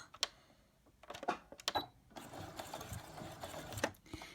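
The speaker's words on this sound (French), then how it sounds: "J'ai positionné donc mon tissu sous la machine, je vais démarrer ma couture." Sewing machine stitching fabric for a small gift pouch, starting with short stop-and-go bursts of clattering needle runs for a forward and reverse stitch, then settling into a longer steady whirring run, close and clear.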